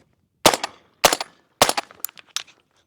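Three sharp suppressed gunshots from a 300 Blackout short-barrelled rifle firing 147 grain subsonic rounds ring out close by at even intervals, followed by a few lighter clanks and clicks.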